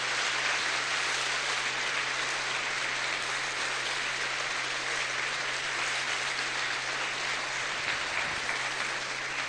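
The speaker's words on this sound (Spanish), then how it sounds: "Aplaudimos tu palabra" A church congregation applauds steadily, a dense wash of many hands clapping at an even level that holds throughout, with no voices over it.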